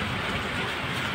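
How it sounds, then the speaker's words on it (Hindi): Dense, steady hiss of rain falling in a Himachal Pradesh mountain village, broadband and unbroken throughout, with no voices. "तो अभी हो रही है बारिश"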